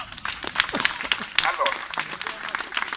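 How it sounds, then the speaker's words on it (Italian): A crowd gathered outside a courthouse in Rome applauds, scattered uneven claps under voices and someone speaking. "facciamogli l'applauso"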